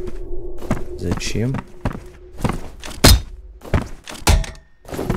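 Cans thrown and clattering in the shooter game F.E.A.R., a run of sharp thunks and thuds at irregular intervals, loud and close, with a voice speaking briefly between the impacts.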